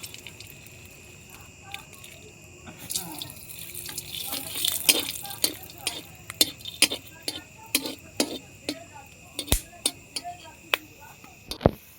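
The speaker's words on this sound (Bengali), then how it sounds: "এবার আমি এখানে ফোড়নে দিয়ে দেবো 2টো শুকনো লঙ্কা আর একটু কয়েকটা গোটা গরম মশলা" Dried red chillies and whole garam masala crackle in hot oil as a tempering for a fish curry, a close, steady hiss broken by sharp pops that grow busier toward the end.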